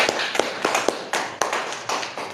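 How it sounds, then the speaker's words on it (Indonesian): A small audience applauds at a holistic healing training session, a short burst of uneven claps close up that softens toward the end. "Tepuk tangan untuk Bu Sauda."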